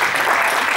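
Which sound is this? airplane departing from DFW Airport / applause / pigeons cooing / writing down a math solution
applause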